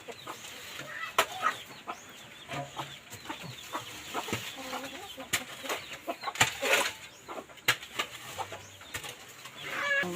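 Chickens in a rural backyard coop cluck and squawk in scattered bursts, with occasional wing flapping and sharp knocks, fairly faint and close, with a little murmured speech mixed in.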